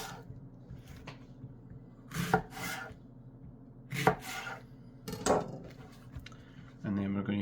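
A knife slices through leeks on a cutting board in several distinct, crisp chops spaced a second or so apart, close and clear against a quiet kitchen.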